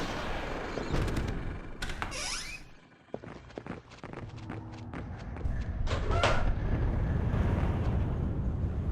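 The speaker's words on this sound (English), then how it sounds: "The bomb just hit the building." A bomb strikes a building in the stealth game Splinter Cell: Chaos Theory, set in Seoul. Heavy booming blasts and crashes give way to a sustained loud, rumbling roar with scattered sharp impacts throughout.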